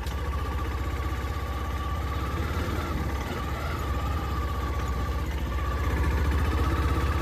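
A motorcycle engine running steadily in first gear at low speed on a road, a continuous close mid-pitched hum with a faint low rumble and no voices.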